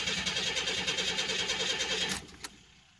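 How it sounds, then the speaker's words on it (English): Car with 44,000 miles and a faulty idle air control valve cranks and cold-starts, a rapid rhythmic churning that catches and then drops to a quieter, uneven idle; faint but close. "let's go ahead and fire it up cold start and see how she does."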